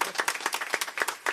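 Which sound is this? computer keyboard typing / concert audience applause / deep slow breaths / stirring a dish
concert audience applause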